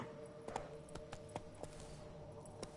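Horse hooves clip-clop at a steady riding pace in The Witcher 3, with quiet, evenly spaced thuds over a low in-game background hum.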